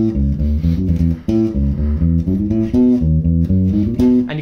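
A bass guitar plays the rocky outro of a song, a loud, close run of punchy plucked notes in a driving rhythm with brief gaps between phrases.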